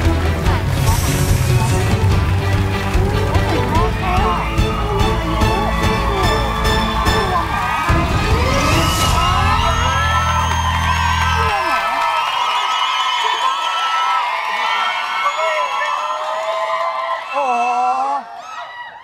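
A large crowd screams and cheers loudly over booming live rock music on a TV show, the shrieks swelling then fading to a few scattered whoops.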